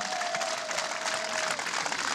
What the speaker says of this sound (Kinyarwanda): mwongere Imana amashyi